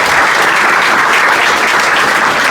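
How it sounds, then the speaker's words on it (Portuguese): A loud, dense round of audience clapping fills a professional lecture hall. It stays thick and unbroken throughout. "E eu peço a salva de palmas"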